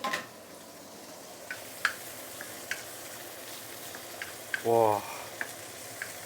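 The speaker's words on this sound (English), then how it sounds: "you want to saute the Taucu salted black bean together with all the ginger, garlic, onion and stuff" Salted black beans sautéing with ginger, garlic and onion in a hot pan, a steady close sizzle with scattered light clinks of a utensil and a brief voice.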